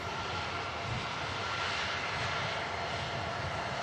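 Aircraft engines roar steadily and loudly as a plane takes off from Manchester Airport bound for Stansted, a broad continuous rumble with no voices.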